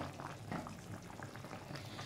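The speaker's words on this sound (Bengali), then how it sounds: "দেখুন ঝোল ফুটতে শুরু করেছে" Rohu fish curry with turnip bubbling in a pan, a steady close simmering gurgle with a dense wash of small popping bubbles that continues evenly throughout.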